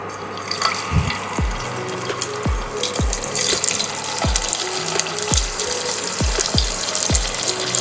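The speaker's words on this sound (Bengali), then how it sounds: "একটা একটা করে ফুলকপি দিয়ে ভেজে নেব।" Cauliflower florets dropped one by one into hot white oil in a pan, with a steady sizzling hiss and a regular series of soft plops as each piece goes in.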